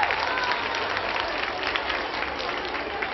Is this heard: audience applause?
yes